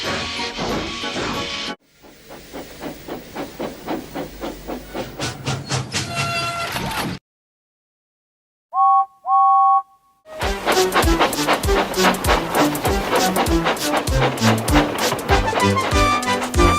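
A model train in a Thomas and Friends–style production runs with steady rhythmic clatter and rumble, briefly interrupted by a short silence and a pair of sharp whistle-like tones before the loud chugging resumes.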